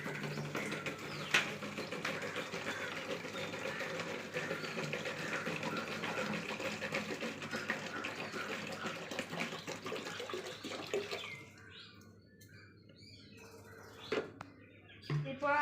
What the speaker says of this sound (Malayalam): ആ വെള്ളം അതിലേക്ക് തന്നെ ഒഴിക്കുക.